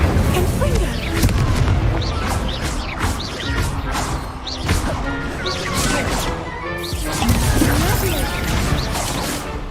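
Repeated Incendio fire spell casts in the video game Hogwarts Legacy, loud bursts of crackling, booming impacts landing in quick succession, mixed with game music and a voice speaking over them.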